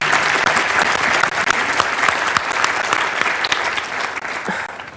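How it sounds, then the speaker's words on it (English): A crowd applauds loudly and steadily at a climate action event, a thick, continuous patter of many hands with a few sharper claps standing out. "So can we get a big round of applause for them as well?"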